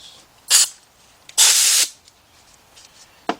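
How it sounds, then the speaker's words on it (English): Small air blower fitted with a hose, used on a Ford Fiesta engine: two sharp hissing blasts of air, the second longer, close and loud, with faint clicks between. "I got my little air blower here, and I got a hose hooked onto it."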